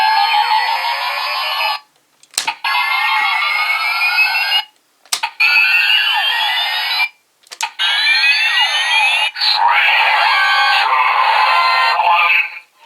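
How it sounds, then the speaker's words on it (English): Kamen Rider Fourze toy transformation belt powering up as its four switches are pressed: loud electronic sweeping and warbling tones in long bursts, broken by short clicks and gaps between each switch. "pressing down each of the 4 switches powers up the belt"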